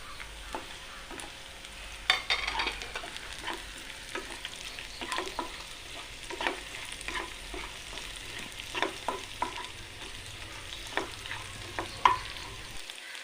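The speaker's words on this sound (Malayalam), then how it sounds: "കുറച്ച് വഴഞ്ഞതിന് ശേഷം അതിലേക്ക് നമുക്ക് പച്ചമുളകും ചേർത്ത് കൊടുക്കാം." Kerala-style raw banana stir fry with green chilies sizzles steadily in a pan, broken by irregular scraping and clinking stirs of a spoon, close and moderately loud, with no talking.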